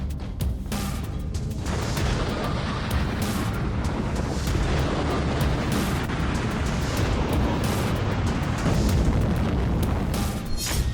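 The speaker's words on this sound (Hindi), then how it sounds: "एटम बम भी फट सकता है।" An atom bomb blast sound effect gives a huge continuous roaring rumble with crackling bursts. It stays loud and dense from start to finish, with no talking.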